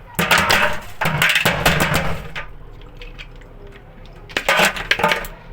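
Ice cubes rattle and clink inside a household fridge during cleaning, a few sharp clustered bursts near the start and again toward the end, close and fairly loud, with quieter handling noise between.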